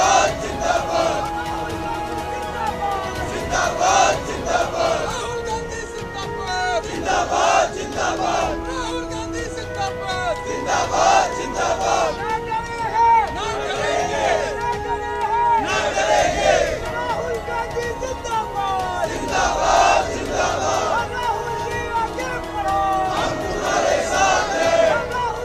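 Large street crowd of Congress party workers protesting, a dense roar of many voices and shouting swelling in repeated loud surges, with a constant babble underneath throughout.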